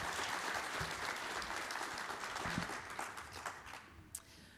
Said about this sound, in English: So please welcome them and give them a round of applause.